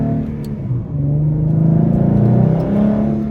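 Exhaust of a 2014 Ford Mustang with the 3.7L V6, fitted with a Roush axle-back and shorty headers, droning deep and steady as it revs under load. Close and loud throughout, with no talk.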